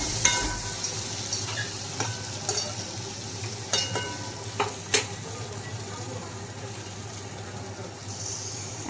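Spice paste is stirred and fried in a pan for a Bengali sour-spicy fish curry with mango. Sizzling runs throughout, under a low steady hum, with sharp spoon scrapes and clinks at irregular intervals.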